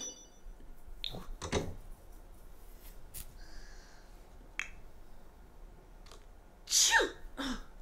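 Someone sneezes: a quick double burst early on, then a sharper, louder sneeze near the end, with faint clicks and quiet room tone between and no talking.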